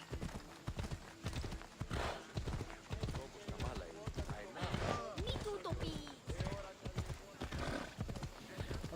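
Horse hooves clip-clop at a steady trotting rhythm in the video game Assassin's Creed Odyssey, loud and close, with an occasional whinny and game voices underneath.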